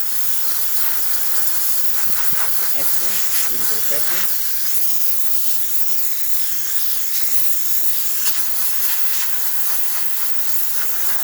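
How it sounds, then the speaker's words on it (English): A steady, loud steam hiss runs throughout from an espresso machine steam wand after a heating element replacement, with someone briefly speaking over it. "You can see nice steady steam coming out of the machine."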